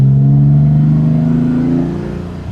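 A BMW E30 Touring with a swapped S38 engine and individual throttle bodies runs loud with a high idle, a steady deep harmonic drone that eases slightly toward the end, with no voices.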